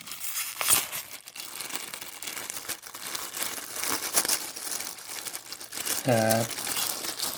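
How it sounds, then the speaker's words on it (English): Plastic wrapping on comic books crinkles and rustles as it is pulled open up close, in repeated bursts while someone talks over it. "Gotta open this up. More plastic."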